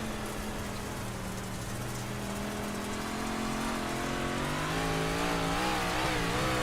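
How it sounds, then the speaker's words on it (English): A big block modified race car engine roars steadily on a dirt track at Charlotte, its pitch rising and wavering as the driver feathers the throttle through a corner. The engine is loud and continuous, with no voices. "You can hear the feathering of the throttle, the precise expertise required to wheel these big block modifieds with all their horsepower"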